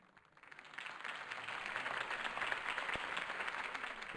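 Applause for Harvey Dent's campaign speech in Batman: The Telltale Series, a crowd clapping that swells in after a quiet start and holds steady, dense and moderately distant, with no talk over it.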